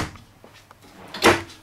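A small drawer in a 2018 Newmar Ventana 4369 diesel motorhome slides and bumps shut, a single short wooden knock after faint handling sounds.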